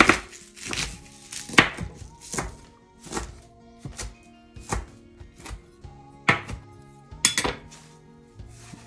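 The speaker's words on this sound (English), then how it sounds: "So we want to cut the rest of this kale up." Kale is chopped with a knife on a cutting board, giving a run of sharp, irregular thunks close by, with some clinks of kitchen dishes and no talking.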